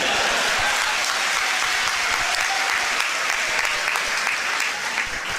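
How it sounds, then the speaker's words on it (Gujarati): A large audience at a lunar eclipse vigil religious gathering in Surat claps together in loud, sustained applause that fills the hall evenly and fades slightly at the end. "આટલી તાળી ન હાલે."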